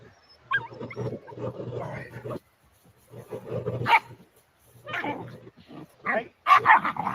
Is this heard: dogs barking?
yes